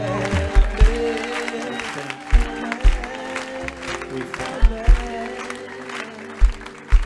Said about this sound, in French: Voilà pourquoi nous acclamons l'Esprit de Jésus en ce lieu.